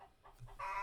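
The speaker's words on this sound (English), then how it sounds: "You hear chickens in the background?" Backyard chickens clucking in short bursts, a few hen calls rising into a longer squawk at the end, moderately close but quiet.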